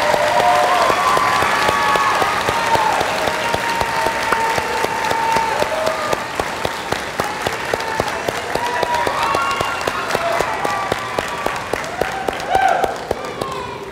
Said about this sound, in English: let's congratulate this group of graduates with a round of applause